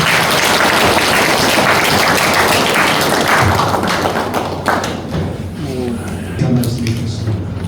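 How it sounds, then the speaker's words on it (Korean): A church congregation applauds at a pastor installation and elder pastor ceremony. Dense, loud clapping fills the hall at first and then thins out into scattered claps, with voices murmuring as it fades. "축하드립니다. 다 같이 박수로 한번 주세요."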